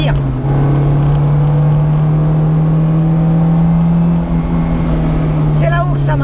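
A Honda S2000's engine gives a loud, steady drone with a strong low hum throughout, rising slightly in pitch as VTEC engages around 6000 rpm; a short tonal sound appears near the end.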